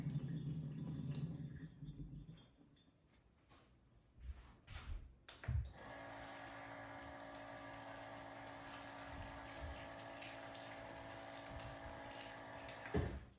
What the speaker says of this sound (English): I'm gonna drain it, and then we're just gonna rinse it through with more spring water